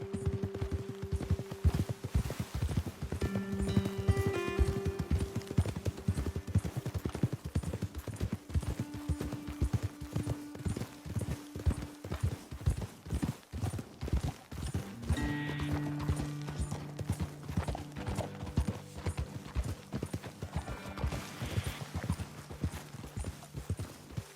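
In Red Dead Redemption 2, steady, rhythmic clopping of hooves goes on throughout at a brisk pace, with a horse's whinny rising now and then over a soft tonal backdrop.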